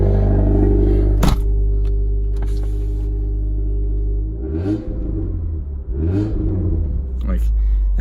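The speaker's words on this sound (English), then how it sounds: "Here's the sound from inside the car." A 2008 Subaru Impreza with an aftermarket exhaust heard from inside the cabin: a steady low rumble with a couple of brief revving swells, close and loud.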